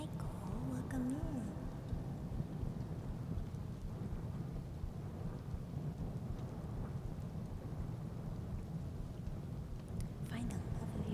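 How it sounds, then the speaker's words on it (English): Soft, steady rain with low rolling thunder, faint and continuous throughout, with a brief high tone near the start and no clear voices. "relax in your home theater to listen to the rain"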